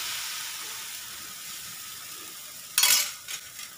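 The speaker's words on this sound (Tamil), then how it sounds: "ஸோ இப்போ பார்த்தீங்கன்னா நல்லா மாவை கரண்டியில் கரைச்சிட்டேன். இது மாதிரி தான் ஊற்றணும்." Rava dosa batter ladled onto a hot griddle over a low flame: a soft background hiss, then a sudden loud burst of sizzling as the batter hits the pan, followed by a couple of smaller crackling flares.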